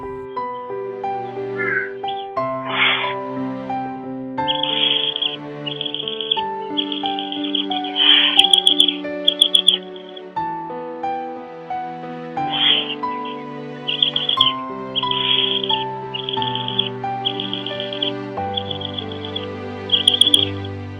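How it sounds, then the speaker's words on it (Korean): A mated pair of Eurasian eagle-owls calling at a wildlife center as the sun sets, with harsh, repeated calls coming in bursts and overlapping, close and fairly loud for about twenty seconds. "해가 기울기 시작하자 수리부엉이 부부의 울음소리는 다시 고조됩니다"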